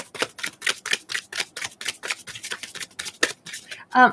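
Rapid, rhythmic riffling of a tarot deck, about a dozen crisp flutters in quick succession, close by, ending with a sharper snap.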